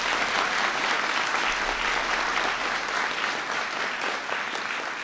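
An audience breaks into dense, sustained applause for teachers at a science fair, loud and continuous from start to end with no voices above it.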